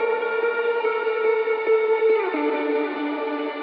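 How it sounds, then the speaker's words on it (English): Sustained electric guitar lead drenched in effects, held notes with smooth pitch glides, thick reverb and echo, playing alone with no voices. "the first thing I added was this kind of guitar lead that I found in Arcade."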